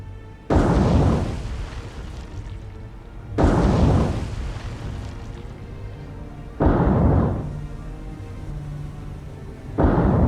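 Torpedoes strike ships in a naval warfare game as four heavy explosions, each a deep booming blast that rumbles and fades before the next hits at a few seconds' spacing, loud and without talk.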